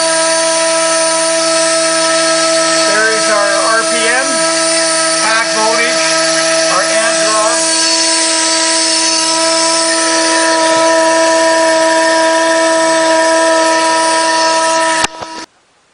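Two brushless motors with propellers, driven by one ESC, whine at a high steady pitch with a loud, even tonal drone that holds for a long stretch, then cuts off abruptly near the end; someone talks briefly partway through.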